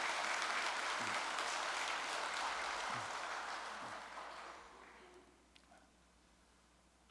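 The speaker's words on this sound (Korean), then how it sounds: "우리 김용희 작가를 위해서 박수 한번 보내겠습니다." An audience gives steady applause in honour of the writer Kim Yong-hee. The clapping holds for several seconds, then fades to a few scattered claps and near silence.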